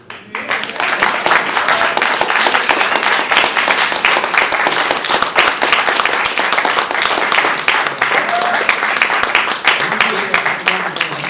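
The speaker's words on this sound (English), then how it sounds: "Give him a round of applause." An audience applauds at a lecture event, dense sustained clapping that fills the room loudly and evenly for its whole length, with a few voices mixed in.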